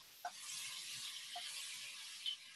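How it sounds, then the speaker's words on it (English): Beef sautés in a pot during a cooking class, giving a steady, soft, hissing sizzle throughout with a couple of faint light clinks. "You hear that sizzling? You hear that crispness?"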